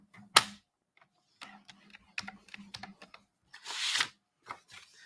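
A card base being scored with a crafting tool, producing a series of short, sharp ticks and scrapes in an irregular rhythm, close and quiet with no talk.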